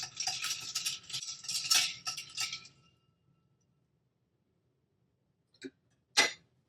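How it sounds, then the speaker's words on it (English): Ice rattles and clinks against a mixing glass as a cocktail is stirred, a busy close jingle for a couple of seconds, then silence broken by two sharp single clinks. "Stir just to chill."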